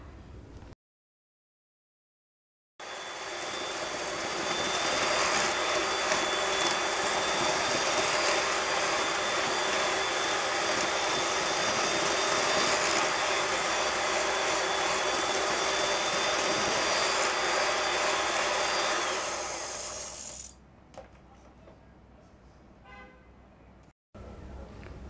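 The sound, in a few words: electric mixer beating butter and sugar at low speed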